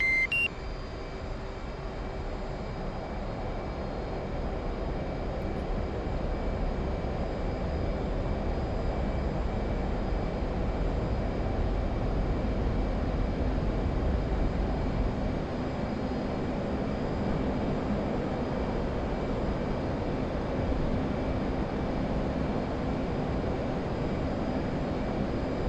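A jet in DCS World lines up on runway 31 and climbs without restriction toward 40,000 feet. Its engine sends out a steady, loud, broadband roar that holds for the whole stretch, with only faint tonal hums and no voices.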